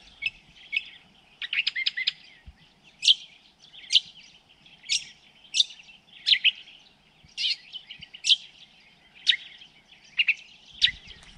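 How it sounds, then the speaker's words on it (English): Birds chirping outdoors in rural Western Australia near a full river, a steady run of bright, repeated calls and short trills that carry on without a break, moderately close and clear above a quiet background with no talk. "Listen to the birds."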